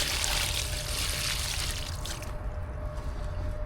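Water pours and splashes steadily over freshly caught river carp, a close, continuous rushing wash with no talk.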